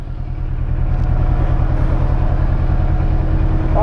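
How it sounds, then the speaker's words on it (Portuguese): A car's electric cooling fan runs steadily after a road-trip refuelling stop, a constant low hum and whir close by, with no talk. "Ah, o ventilador, né? Tá ligado?"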